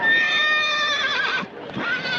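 A horse gives a long, loud, close whinny with a quavering high pitch, breaking off briefly before a second shorter neigh.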